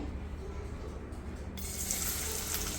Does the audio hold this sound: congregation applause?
no